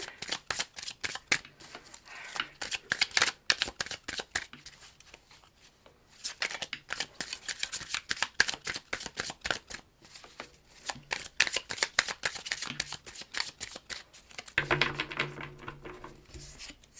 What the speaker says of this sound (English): Let's see if we're getting more cards to fall out here.